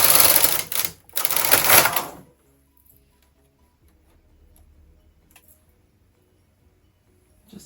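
A Brother KH 260 knitting machine with ribber casts on a zigzag row: about two seconds of loud, dense mechanical clatter in two close bursts as the carriage runs across, then near silence.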